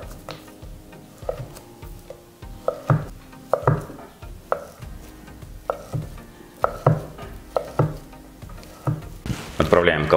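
A knife chopping sausage into cubes on a cutting board in a steady rhythm, a dozen or so sharp close taps, with a few louder knocks near the end.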